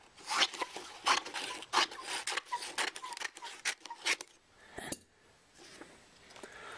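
Cutting a plastic rear fender on a Kawasaki Ninja 250: a close, rapid run of rasping, scraping strokes in steady bursts for about four seconds, then a few softer scrapes and quieter handling.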